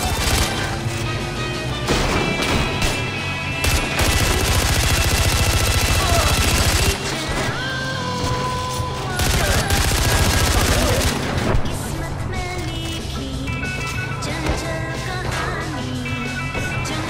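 Gunfire in Far Cry 4 rattles in rapid automatic bursts and single cracks, with crashes mixed in, over nearly continuous combat noise. Voices and game music sit underneath.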